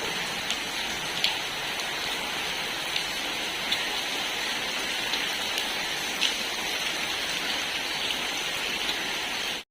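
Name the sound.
steady rain falling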